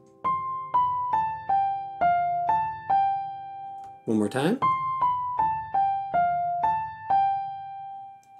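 An ear-training exercise plays a melodic pattern of seven clear sustained tones, do ti la so fa la so, each sounded in a steady rhythm. A short spoken phrase breaks in midway before the same seven-note pattern repeats.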